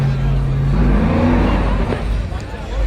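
A racing truck's engine revs loudly at a small-tire drag racing shootout, a deep roaring growl that swells and shifts close by, amid crowd chatter and voices.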